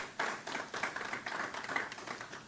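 Audience applause at a governor's bill signing in Trenton, a short run of scattered, moderately quiet clapping that thickens briefly before thinning out.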